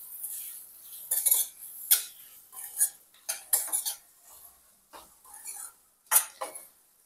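Metal utensil stirring and scraping onions frying in a pot for one-pot chicken biryani, a run of separate clinks and scrapes at a moderate level with short pauses between strokes.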